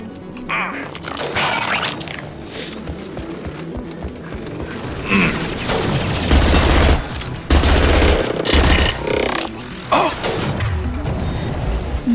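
Sniper rifle shots from Garrus in Mass Effect ring out among dense combat noise, with heavy repeated cracks, crashes and impacts layered through a loud, busy battle and a player's voice audible in places.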